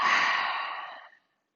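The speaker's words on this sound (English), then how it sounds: "Open your mouth and exhale." A single long exhale through an open mouth during a yoga breathing exercise, a soft breathy rush that starts full and fades out over about a second, close and alone.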